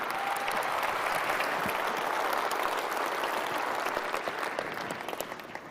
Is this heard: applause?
yes